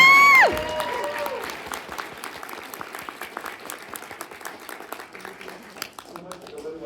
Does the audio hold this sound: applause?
yes